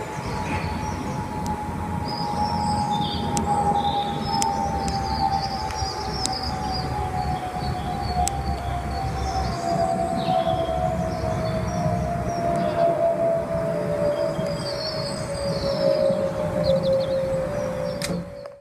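An Airbus A320 family aircraft gives off a clear, steady high whistle that slowly drifts downward in pitch, sitting over a continuous roar of engine and air noise.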